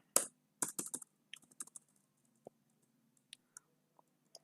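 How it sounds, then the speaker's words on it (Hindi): Keys on a computer keyboard are typed in quick, irregular bursts of sharp clicks, first a dense flurry and then sparser single taps, close and crisp in a quiet room without speech. "अब मैं टेक्स्ट लिखूंगा।"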